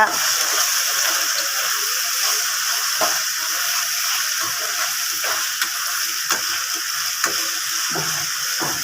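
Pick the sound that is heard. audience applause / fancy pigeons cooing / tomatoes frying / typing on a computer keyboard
tomatoes frying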